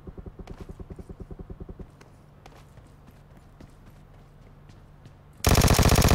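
A Vector submachine gun fires a rapid burst in PUBG Mobile, fast regular cracks close up, followed by quieter mechanical reload clicks and a sudden loud, dense blast of gunfire at the end.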